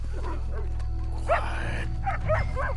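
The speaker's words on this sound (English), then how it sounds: "It's just a dog." A dog in the video game Red Dead Redemption 2 gives several short barks and yips at middle distance over a steady low ambient hum, with no talking.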